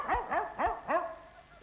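A person imitates a dog barking with four short, yappy woofs in quick succession, close and moderately loud, then stops.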